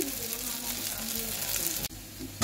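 Flour fritters (bora) deep-frying in hot oil give off a steady close sizzle with a faint stirring scrape, broken by a brief drop near the end before the frying noise swells back.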